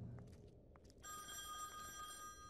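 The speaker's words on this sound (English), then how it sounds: "Oh, now the phone's ringing." A telephone rings in The Wolf Among Us video game, its steady electronic bell starting abruptly after a moment of soft, faint sounds and continuing unbroken to the end, fairly quiet.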